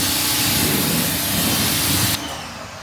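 A spray nozzle rinses an abandoned Datsun during a detail, a loud, close, continuous hiss that cuts off sharply near the end as the trigger is released.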